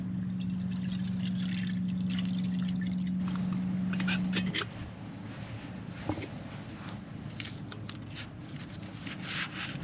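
Boiling water poured from a kettle into mac and cheese at an island campsite, a splashing trickle over a steady low tone that cuts out midway, followed by faint drips and handling noises.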